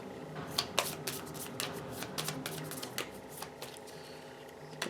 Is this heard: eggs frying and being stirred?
no